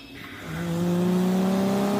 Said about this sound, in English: I'm gonna use a treadmill to test how fast it can actually go